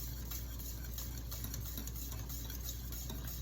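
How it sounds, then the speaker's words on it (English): Banana pudding mixture stirred steadily in a pot on the stove, a continuous soft scraping and swishing that stays even and close throughout, with no talk. "I'm just gonna keep stirring right here"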